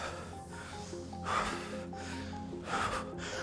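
Sharp, forceful exhales from someone doing skier jumps in a conditioning workout, two breathy bursts about a second and a half apart over a faint steady background.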